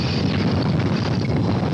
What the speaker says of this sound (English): winds gusting up to 130 miles an hour